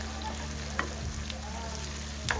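Tomato paste fries in a pan for Malatya-style sour meatballs, a soft steady sizzle with a low hum underneath and two brief scraping stir strokes, fairly quiet and close.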